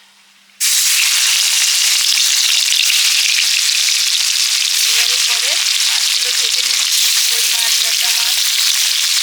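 Rui fish frying in a pan of hot oil, a loud steady sizzle that bursts in after a brief quiet start and holds throughout, with faint clinks and small crackles in the latter half.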